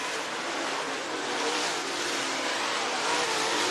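Northern All-Star Modified race cars during a heat at Florence Speedway in Union, Kentucky, a loud continuous roar of engines filling the track with no break and no voice over it.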